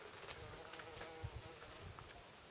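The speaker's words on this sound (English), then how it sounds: "Look at the bees going in and out of the flowers." Soft, close buzzing of bees flitting in and out of nasturtium flowers, the drone rising and falling as they move, with faint outdoor background.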